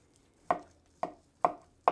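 Four crisp knife strokes slice through the edge of a rotisserie-cooked pork roast, each a sharp crunchy cut followed by a short fade, evenly spaced and close up with no talking.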